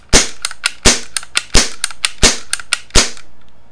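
A Daisy Powerline 1200 CO2 BB pistol fires in quick succession during target testing: about five loud, sharp cracks, each followed by a quieter snap or impact, all close and unaccompanied by speech.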